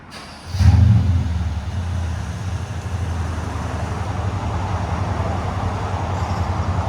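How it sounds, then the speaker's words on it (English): A 2013 Mercedes S550 with a 5.5L V8 and its mufflers deleted starts and settles into a loud, deep, rumbling idle that carries on steadily, heard close by without any talk. "Mercedes S550 muffler delete."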